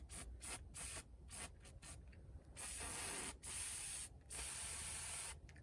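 Rust-Oleum spray paint hisses from a can in short and longer bursts with brief gaps between them, close and fairly loud, while a model tree is painted on a cold, cloudy day.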